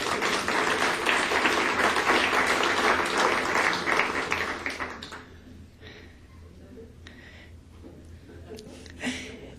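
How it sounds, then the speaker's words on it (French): An audience at a university award ceremony applauds an excellence-in-teaching prize, with dense clapping for about five seconds that then tapers off to scattered claps and room noise. "Vous pouvez applaudir, hein, vous gênez pas."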